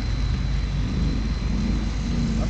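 Cars drag racing side by side on worn drift-style tires, a steady loud low engine and road roar filling the whole stretch without a break.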